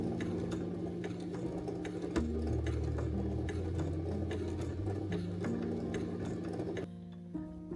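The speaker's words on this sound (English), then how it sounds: "I've stitched all the way round on the inside line here" A sewing machine stitches a vintage handmade tray cloth onto fabric, running with a steady mechanical whir and rapid ticking that changes pitch slightly as it goes, then slows and stops near the end.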